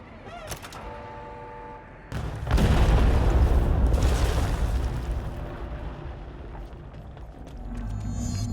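A loud explosion in the video game Control bursts at about two seconds and rolls on as a long, heavy rumble that slowly fades, preceded by quieter game sounds.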